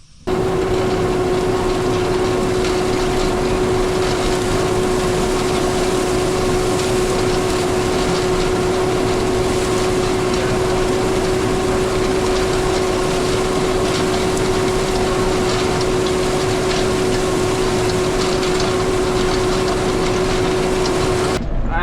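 A Case IH Farmall tractor engine runs at a steady, droning idle with a constant hum, loud and close, continuing unchanged throughout.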